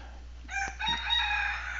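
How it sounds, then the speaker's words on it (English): A rooster crows once nearby, a rising harsh call that holds for about a second against a quiet indoor background. "you probably are gonna hear a lot of this chicken noises"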